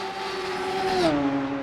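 A Radical SR3 race car on the main straight at Road America, one steady engine tone holding high and then dropping in pitch near the end as it crosses the line.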